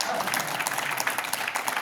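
An audience claps together at a gathering, a dense steady patter of many hands filling the room from start to finish, with a voice faintly present underneath.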